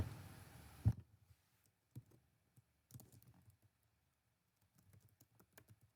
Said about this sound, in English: I am going to type my answer.